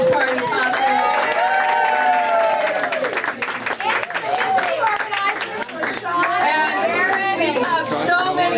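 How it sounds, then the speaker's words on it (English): Applause and cheering from an office party crowd, loud and close, with whoops and talking voices mixed in throughout. "and a big round of applause for Andy Shallal, who made most of this part"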